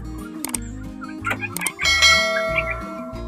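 Backyard chickens kept above a catch tray cluck and call close by, with a louder drawn-out crow-like call rising near the end amid other steady tones.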